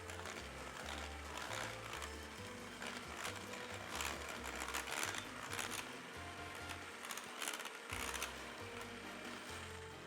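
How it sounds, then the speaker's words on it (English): An electric mixer whisks no-bake Nutella cheesecake filling, a steady mechanical whirr with rhythmic beater clatter against the bowl, fairly quiet and continuous throughout. "I'm just gonna whisk these together until they're fully combined using my electric mixer again."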